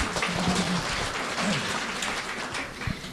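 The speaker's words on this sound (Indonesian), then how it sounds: "tepuk tangan dulu buat Bapak kita" An audience at a Buddhist Dhamma talk gives a short round of applause for the speaker, steady clapping with faint voices mixed in, lasting about three seconds.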